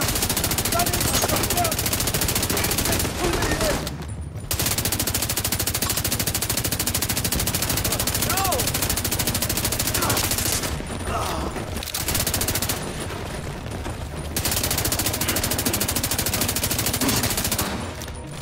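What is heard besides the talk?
gunfire in the video game The Division 2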